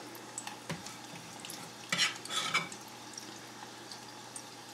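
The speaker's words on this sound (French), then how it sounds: "je mets mes fritters, petite cuillerée à la fois, dans mon huile qui est chaude" Spoonfuls of fritter batter dropped into hot oil, crackling and sizzling softly with a few sharper pops and a brief louder burst of frying, no talking.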